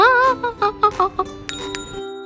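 Notification bell sound effect for a subscribe prompt: a quick run of bright, ringing chimes, several short dings in a row, then a final pair of sharper tings, with no talking.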